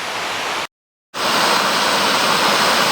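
Alpine Falls, a waterfall on the Loyalsock Trail beside a stream, roars as a loud, steady broadband rush of falling water, briefly cut out for half a second before resuming at full strength.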